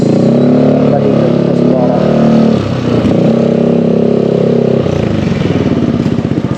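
A motorcycle fitted with an aftermarket muffler pipe idles and revs loudly up close at an LTO emissions testing center in Valenzuela, a deep throbbing engine drone with a dip and surge midway and a rapid rumbling pulse toward the end.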